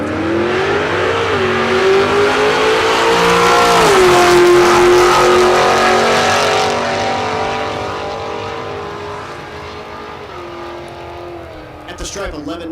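Drag racing cars at Texas Motorplex in Ennis, Texas, roar loudly down the strip, their engine pitch climbing and shifting over sustained high revs before fading slightly, with a brief clatter near the end.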